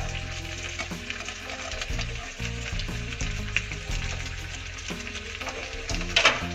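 Indomie goreng instant noodles stir-fried in a pan with squid, tomato, garlic, celery, bean sprouts and spring onion, sizzling steadily and loudly, with repeated scraping strokes as the mixture is stirred.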